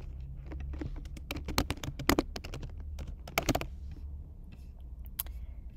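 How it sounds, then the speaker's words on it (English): Names are typed on a computer keyboard, giving steady, close, fairly quiet key clicks in an irregular rhythm for several seconds with some louder taps, and no talk. "I can just start typing in their first and last name."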